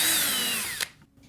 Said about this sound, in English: we'll use my shielded drilling and drill apart the casting